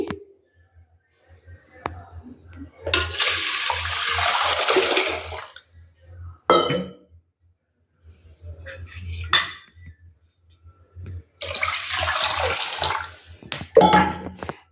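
Water is poured from a vessel onto two cups of soaked rice for Andhra-style ragi sangati, giving two loud splashing runs with short clatters of a pot between them, and no voices.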